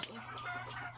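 A chicken clucks briefly nearby over a low steady background hum.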